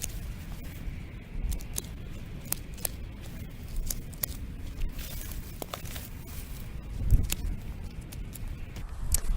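Pruning shears cut back perennial plants in a garden, a series of sharp, close snips at an irregular pace with faint rustling of stems between cuts.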